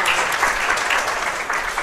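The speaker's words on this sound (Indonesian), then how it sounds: "Tepuk tangan untuk kita semua" Classroom of students claps together at a teacher's prompt, brisk close applause that holds steady for a couple of seconds.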